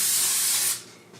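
Cooking spray hisses onto a baking pan in one steady, close burst lasting under a second, then cuts off, leaving a quiet room.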